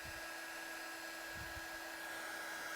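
A heat gun blows hot air for heat embossing on a card, a steady even whir with a high whine running unbroken throughout, faint and continuous with no talk.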